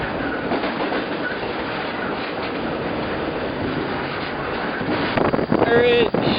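A double-stack freight train rolls steadily past out of Willard, a constant rumble and rattle of cars with wind buffeting the microphone, then closer clanks and a brief squeal near the end.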